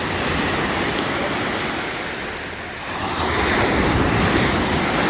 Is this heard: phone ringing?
no